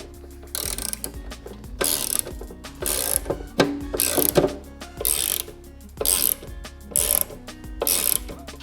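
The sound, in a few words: ratchet tightening bolts on motorcycle rear fender support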